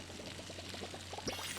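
Water poured from a bucket onto plants in the video game Palia, a quiet series of quick splashy pulses followed by a brief trickling gurgle, faint and close.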